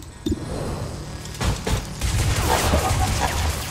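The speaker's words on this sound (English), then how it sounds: "I'm going to take all the shots possible at this fucking thing" Bursts of gunfire, with a mechanical overdrive sequence, from the tactical strategy game XCOM 2: War of the Chosen. Several shots crack in a rapid, dense volley across most of the passage, loud and close, with no talking.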